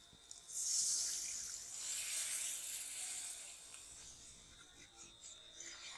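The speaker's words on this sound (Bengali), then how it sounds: "এবার পনির ভিজিয়ে রাখা জলটা আমি দিয়ে দেব।" Water saved from soaking paneer is poured into a pan of spiced paneer curry, making a soft splashing pour that swells near the start and then trickles off quietly.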